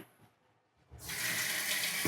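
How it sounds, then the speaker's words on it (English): A renovated home's kitchen sink faucet turns on after a quiet pause, then runs in a steady, close hiss of flowing water. "Okay, sink, faucet."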